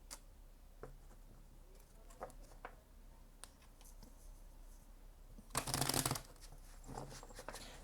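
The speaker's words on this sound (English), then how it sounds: "Just one last shuffle." Tarot cards are shuffled in a quiet room, with soft scattered ticks and flicks building to a brief, dense riffling burst, then a few lighter rustles.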